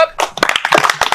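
A small birthday audience claps in a quick, sharp burst of hand claps, close and fairly loud, with no voices over it.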